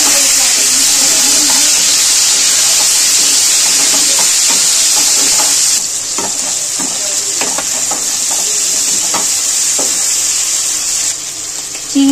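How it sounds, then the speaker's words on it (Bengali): Prawns and potatoes seasoned with salt and turmeric fry together in hot oil, giving a loud, steady close sizzle with soft intermittent stirring and scraping clicks, easing slightly partway through, with no talking. "এবার চিংড়ি মাছ আলু দুটো একসাথে করে ভাজবো।"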